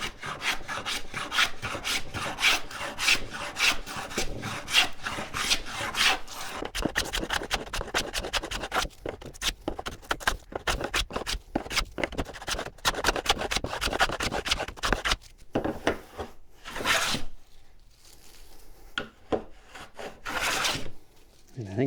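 A Fales patent hand plane cuts a profile along a wooden board in repeated rasping strokes, a dense rhythmic scraping and shaving close by, sometimes jamming, then slowing into a few separate stroke bursts with short pauses.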